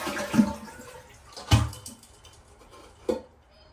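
Water drains from a handheld toilet bidet sprayer hose in a few short splashes and gurgles, three distinct bursts separated by quieter dripping, close and without speech.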